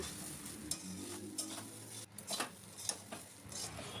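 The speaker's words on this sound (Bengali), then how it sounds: "এইবার খুব ভালো করে মিশিয়ে নিচ্ছি" Flattened rice mixed with turmeric, sugar and salt is stirred in a pan, giving soft scraping strokes at irregular intervals over a faint background hiss, with no talk.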